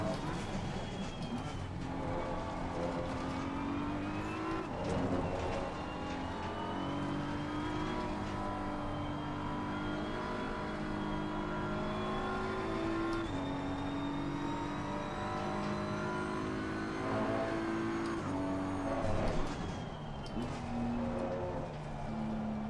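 A race car engine in Assetto Corsa Competizione drones and revs steadily with rising and falling pitch through gear changes, loud and continuous, with someone talking over it.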